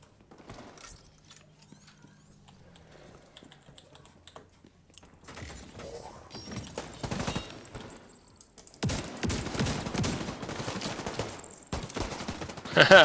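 Gunfire in the shooter game Division 2 starts sparse and faint, then builds into dense, loud rapid bursts from about nine seconds on, with a few brief voices in the mix.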